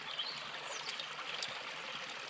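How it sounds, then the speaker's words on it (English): Water in a stream in the Black Glen near Downhill Forest flows around the side of a small stone dam, a continuous soft gurgling and trickling rush at moderate distance, steady throughout with no voices. "The water's flowing around."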